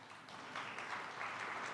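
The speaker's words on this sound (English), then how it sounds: "I think you guys should give them a round of applause" A small audience gives a round of applause for people left standing at an agricultural event, a steady, moderately faint wash of clapping throughout.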